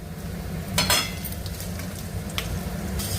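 Mustard seeds, cumin, peanuts, chana dal and urad dal frying in oil in a pan for tamarind pulihora, a steady close sizzle broken by a few spatula scrapes and clinks against the pan.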